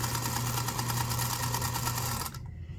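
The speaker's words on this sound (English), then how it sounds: "continue sewing and chain the 2nd pair in and just continue there" A sewing machine runs continuously while chain piecing quilt hexies, a close, steady mechanical whir that stops abruptly near the end.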